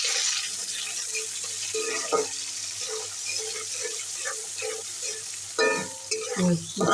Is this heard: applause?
no